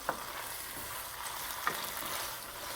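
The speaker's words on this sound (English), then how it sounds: "let's get this pasta finished cooking in here" Spaghetti finishing in a pan of fresh cherry tomato sauce loosened with a ladle of pasta water, a soft steady sizzle and bubbling close by, with a couple of brief stirring clicks and no talk.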